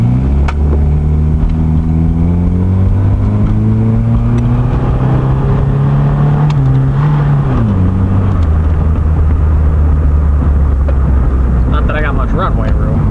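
A 1987 Dodge Charger with the 2.2 engine accelerates hard through its gears, the loud engine note rising in steady climbs with a drop at a shift, heard from inside over constant road and wind roar.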